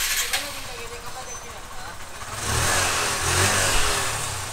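A TVS Apache BS6 motorcycle with a misfiring, jerking engine idles at first, then revs up steadily from about halfway through, a loud sustained engine note that continues to the end.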